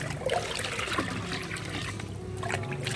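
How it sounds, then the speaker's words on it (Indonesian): Water in a large fish pond is stirred to mix it, giving a steady, close sloshing and trickling that continues throughout without speech. "Setelah itu saya aduk airnya agar tercampur."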